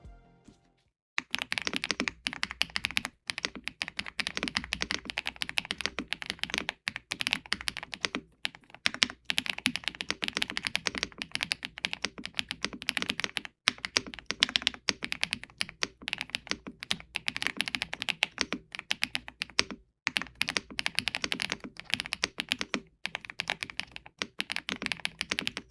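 Steady typing on a GravaStar Mercury K1 keyboard with gasket mounts, sound-dampening layers and slightly thocky switches: a close, continuous run of muted keystrokes with brief pauses, heard alone.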